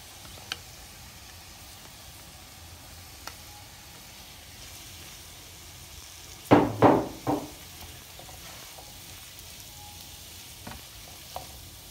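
Bell peppers dropped into a hot pan for savory vegetable pancakes give a short cluster of sharp sizzles and stirring scrapes midway, set against a faint steady frying hiss.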